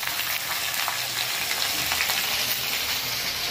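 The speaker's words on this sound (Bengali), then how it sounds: "কড়াইতে তরকারি ছেড়ে দিয়েছি।" Cut vegetables fry in a kadai after a tempering of chilli, bay leaf and five-spice, giving a dense, continuous hissing sizzle, close and even throughout with no voices.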